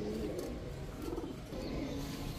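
Pigeons held at a bird farm coo in low, soft, repeated throaty calls, close and continuous, with no talking over them.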